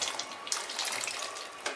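Boiled chickpeas with their cooking water pour into a cooking pot, a short close splashing gush of liquid with a couple of sharper splats.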